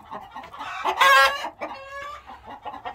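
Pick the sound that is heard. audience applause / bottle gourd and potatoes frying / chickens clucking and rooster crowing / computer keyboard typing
chickens clucking and rooster crowing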